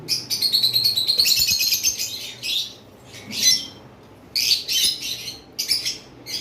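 Caged pet birds for sale, including a pair of albino black-eyed birds, chirping and tweeting in busy overlapping bursts with short pauses, close and fairly loud, with no talk.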